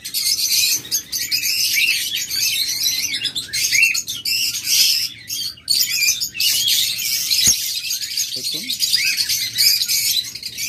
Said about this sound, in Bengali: দেখুন সুপার কোয়ালিটির পাখি